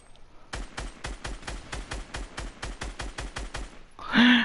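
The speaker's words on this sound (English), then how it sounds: "Keep on shooting. Keep on shooting." Rapid gunfire from a Fortnite match, a steady burst of about a dozen loud evenly spaced shots lasting several seconds, followed by a brief bright sound effect at the end.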